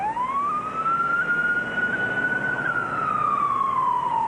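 A single long emergency siren tone rises, holds, then falls away, loud and sustained, over a low rumble of traffic in an ambulance rescue setting.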